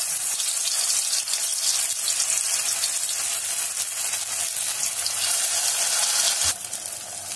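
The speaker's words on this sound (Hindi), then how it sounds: "और अब तेल गरम हो गया है, अब हम एक एक करके इसमें टिक्की डालेंगे।" Sabudana tikki frying in hot oil, a steady loud hissing sizzle throughout that drops slightly in level near the end after a brief knock; no voices.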